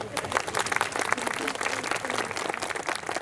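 Applause from a panel audience, a dense, steady patter of many hands clapping at moderate distance that continues throughout.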